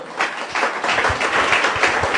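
Church congregation applauding the Lord during a Spanish-language sermon, a dense, steady burst of many hands clapping together, close and sustained throughout.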